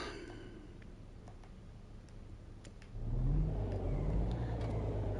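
A truck engine in the On The Road Truck Simulator game on PS5 turns over and starts, a low rumble that rises abruptly partway through after a quiet opening, then settles into a steady idle.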